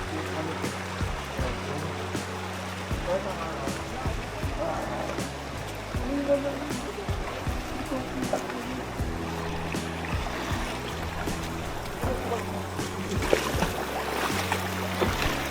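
Water from a shallow stream rushes and trickles steadily on a hike up Mt. Pinatubo, while people talk over it and footsteps splash nearby.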